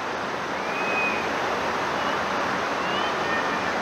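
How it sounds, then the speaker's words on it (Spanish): The El Salto waterfall in Cuetzalan del Progreso, Puebla, gives a constant, loud roar of falling water heard from nearby, steady throughout. "En esta cascada que es la del Salto."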